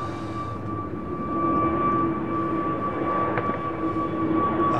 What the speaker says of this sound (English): Boeing 747